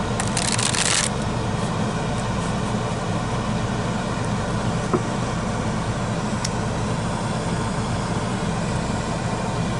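Tarot cards being shuffled, a short dense riffle at the start followed by steady low background noise with no talking.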